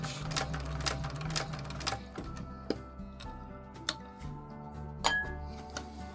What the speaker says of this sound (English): we're going to go ahead and just do the basting stitch, 1/8 of an inch.